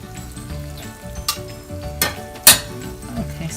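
A Cornish hen sears in a pan over high heat, giving a steady close sizzle broken by a few sharp clinks and scrapes of utensils.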